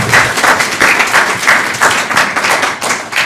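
Audience clapping for a guest speaker at a synagogue gathering, a steady, close round of many hands in rhythmic bursts that thins out toward the end.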